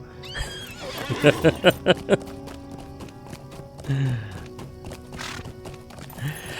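Rhythmic hoofbeats clip-clop briefly, followed by a horse's whinny, amid game-style music and effects in Lord of the Rings Online.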